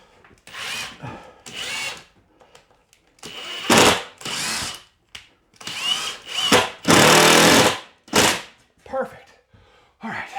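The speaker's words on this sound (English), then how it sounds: "let's get this first screw in. Where's my, right here is the stud" Power drill driving a screw into a wall stud while an EG4 6000XP inverter is mounted, heard in several loud, whirring bursts separated by pauses, close by, with occasional talk between them.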